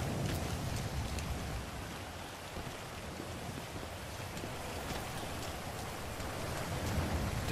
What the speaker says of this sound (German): Oh, ich liebe Regen. Dieser Regensound.